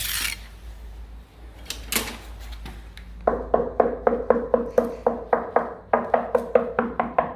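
Hollow knocking taps on a door threshold filled with foam that does not fully fill it, a few scattered at first, then a quick steady series of close, resonant knocks.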